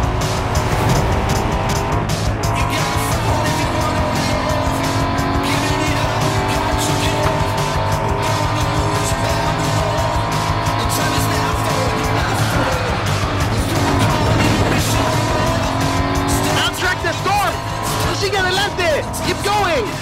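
A car driven hard in Forza Horizon 5, with a loud, steady engine roar and tires squealing and skidding throughout, revving rising and falling against a constant dense drone.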